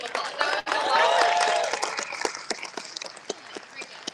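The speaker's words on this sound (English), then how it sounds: "give me a round of applause" An audience at a Hasbro toy panel at WonderCon 2024 breaks into a burst of applause that peaks quickly and then thins into scattered claps as it fades.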